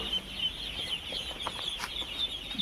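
A crowd of twelve-day-old ducklings at a farm peeps in a continuous high-pitched chorus, close and busy, with overlapping chirps and occasional shuffling.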